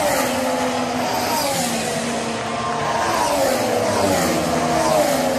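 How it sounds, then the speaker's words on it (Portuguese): Formula 1 V6 turbo hybrid race cars from 2014 scream past at the Hungarian Grand Prix, a continuous loud, layered engine roar with shifting pitch from several cars at once. "Estreia dos motores V6 turbo híbridos, que foi uma revolta por conta do baixo barulho dos motores."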